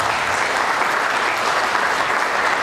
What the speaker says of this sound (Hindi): जयदेव महतो जी के लिए एक बार जोरदार तालियां लगा दें।